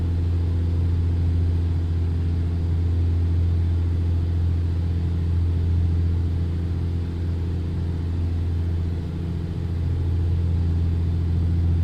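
A Black Square A36 Bonanza piston aircraft engine in a flight simulator drones steadily at throttled-back cruise, a loud, constant low hum with no voices.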